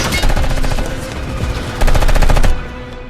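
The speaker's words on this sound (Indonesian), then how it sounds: "Ketika si mbaknya ini ditembakin" In a scene from Captain America: The Winter Soldier, a car is raked with rapid automatic gunfire, loud, close bursts of dense shots that ease briefly and then surge again before tapering off.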